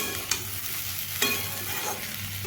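Chana dal and potatoes that were fried earlier are frying and being stirred together in a pan for a spice-free dal curry. The steady sizzle carries two brief scraping stirs.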